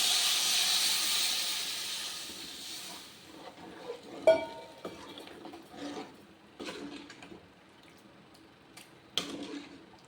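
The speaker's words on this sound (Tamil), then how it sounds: "குழம்பு நல்லா கொதிச்சிட்டு பாருங்கள்." Appalam kuzhambu, a tamarind-water curry, boiling in a pot: a steady hiss that fades after a few seconds, then scattered bubbling pops and spatters, quiet and close.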